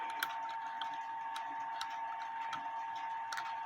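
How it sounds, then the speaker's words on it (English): A cuckoo clock's ratchet mechanism engages while the clock is hung on a wall, producing faint, regular clicks of the pawl over a steady high mechanical whine, close-up and without talk. "ratchet the system until it starts pulling the chain"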